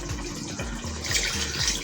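Water pours steadily into a pot of rice being cooked for chicken biryani, a continuous close splashing gush with no talk over it.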